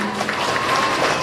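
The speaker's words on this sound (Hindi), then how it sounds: "तालियां बजती रहनी चाहिए संतोष सर के लिए।" Audience applause greets Santosh sir at a dance academy's summer camp finale, a dense, steady wash of clapping that stays at an even loudness throughout the brief moment.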